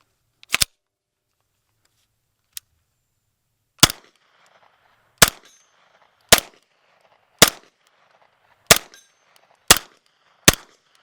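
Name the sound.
SP9A1 Stribog 9mm gunfire, suppressed vs unsuppressed, Fiocchi ammo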